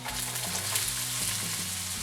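Garlic cloves and chopped onion stir-fry in a wok, with a steady close sizzle and a low scraping of the stirring utensil at intervals.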